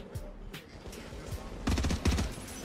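A turret in a video game fires a quick, punchy volley of shots, with a denser cluster of bursts near the end over a busy game soundscape.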